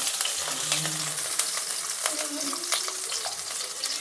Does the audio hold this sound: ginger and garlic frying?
yes